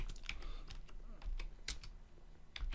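Computer keyboard typing in quick irregular bursts of clicks, some keystrokes sharper and louder than others, with no one talking.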